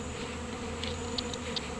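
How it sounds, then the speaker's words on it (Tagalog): A dense swarm of bees buzzing steadily near a stream in rural countryside, a continuous droning hum with occasional closer individual buzzes passing by. "Oo po, napakadami ng bubuyog."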